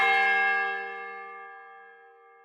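A single bell sound effect strikes once, ringing with a bright, clear tone that slowly decays over about two seconds, alone with no voices.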